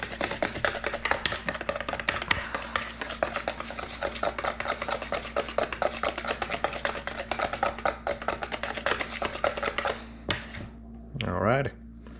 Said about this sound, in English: And go ahead and mix it, whip it in there.